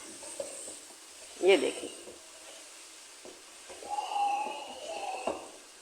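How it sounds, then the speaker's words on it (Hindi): Chicken for nahari frying with dry ginger, salt and spices in a pan, a soft low sizzle with a brief louder stir midway and another swell later, while someone speaks briefly over it. "इन सबको मसालों को डालकर मैं अच्छी तरह से इसे भून लूँगी"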